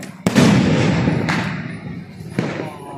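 A "Tera Mera Pyaar" firecracker set off on Diwali night gives a sharp bang followed by a hissing rush, then two more sharp pops spaced about a second apart, close by and loud.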